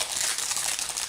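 A Pokémon booster pack wrapper is torn open, a short close crinkle of foil plastic lasting about a second, quiet and alone.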